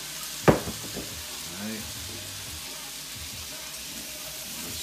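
BBQ jackfruit cooks in olive oil, a soft, steady sizzle heard close after one sharp knock at the start, with faint stirring and scraping sounds.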